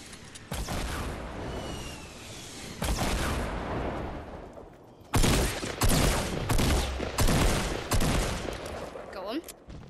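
Video game gunfire in loud, rapid bursts, with volleys of shots cutting in and out and stacking into heavy continuous firing.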